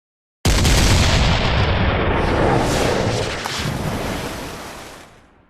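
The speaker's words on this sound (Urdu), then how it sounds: "سلطان محمد اپنی ڈارڈنلز گن کے پاس آتا ہے اور اللہ اکبر کے نعرے کے ساتھ پہلا گولہ داغنے کا حکم دیتا ہے" Ottoman super gun cannon fire: a sudden massive boom erupts into a long, loud, broadband roar that rumbles on for about five seconds before fading, with no voices.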